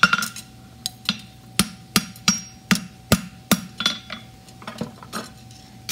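A hammer strikes a horseshoe being forged flat, giving about a dozen sharp ringing metallic blows in an uneven rhythm, close and clear with a faint steady hum beneath and no talk.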